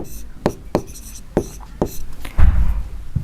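Pen strokes writing out a Class 10 trigonometry maths solution on paper, a series of short scratchy marks in close succession, followed by a brief rustle, with no talk over it.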